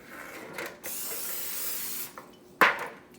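A steady aerosol cooking spray hisses for over a second, followed by a shorter burst and a sharp clatter near the end; no talking.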